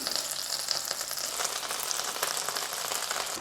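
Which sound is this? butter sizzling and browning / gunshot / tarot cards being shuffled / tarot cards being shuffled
butter sizzling and browning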